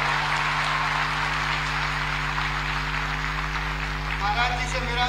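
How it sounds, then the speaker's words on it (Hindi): Applause welcoming Yogi Adityanath at the Rama University convocation, a steady wash of many hands clapping heard over a loud electrical hum from the hall's sound system, even and unbroken throughout. "एक बार जोरदार तालियों से महाराज जी का स्वागत करें।"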